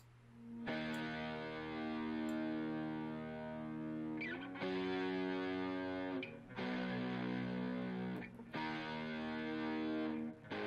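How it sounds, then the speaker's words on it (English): Two distorted guitars, recorded separately and panned hard left and right, chug through sustained power chords in a heavy breakdown, cutting off briefly between sections before ringing out again, loud and alone. "He recorded these two different guitars, a panel left and right, and it sounds like this."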